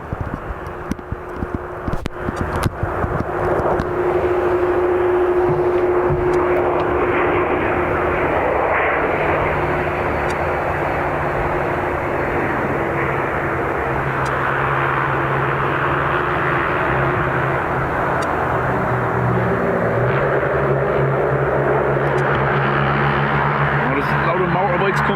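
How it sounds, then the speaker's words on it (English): Airliner taking off from runway 28 right at Dublin Airport, a loud sustained engine roar building and holding steady throughout, heard from nearby with a faint radio voice early on. "Clear for takeoff, 28 right"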